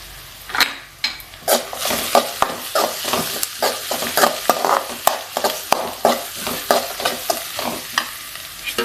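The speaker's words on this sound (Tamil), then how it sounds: "வெங்காயம் நல்லா வதங்கட்டும் வதங்கினோன்னா பச்சை மிளகா சேர்த்துக்கலாம்" Chopped onions and green chilies sauté in a hot pan, with a brisk, steady run of spatula scrapes and taps against the metal over a soft sizzle, close and fairly loud, with no voices.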